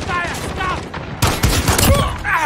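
Rapid automatic gunfire in Call of Duty Modern Warfare with the M19, loud close bursts that come in after a short spoken line and keep going in bursts under more talk.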